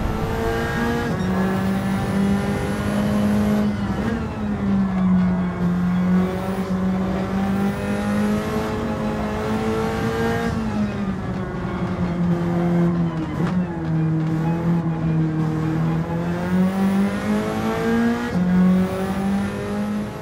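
A Nissan Silvia's engine drones loud and close in Gran Turismo 7 on the Grand Valley circuit, with the throttle eased open in second gear. Its pitch rises and falls across twenty seconds of continuous acceleration and lifting, with no talk.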